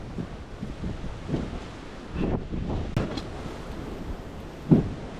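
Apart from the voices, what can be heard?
strong wind blowing during mountain trek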